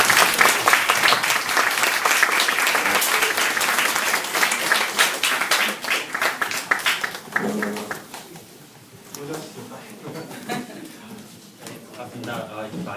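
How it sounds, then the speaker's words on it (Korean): Audience applause at an indoor political party gathering and concert, with dense clapping for about eight seconds that thins into scattered claps and crowd murmur. "박수와 함께 이 자리에 모셔보도록 하겠습니다."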